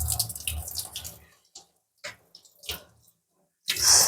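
Tap water splashes into a kitchen sink over a part from an RO water purifier being rinsed, coming in short, uneven bursts separated by near silence, nearby and moderately loud.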